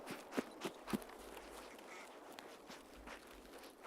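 Three quick squeaky quacks from a rubber duck in the Escape From Tarkov game, close and sharp in the first second, then faint rustling movement.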